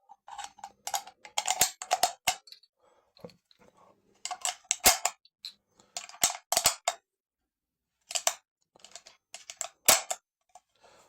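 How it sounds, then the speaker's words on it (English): Rifle rounds are pressed one after another into the magazine of a deactivated inter-war SMLE Enfield, producing close, sharp metallic clicks and scrapes in irregular clusters separated by brief pauses. "they can be loaded into the magazine"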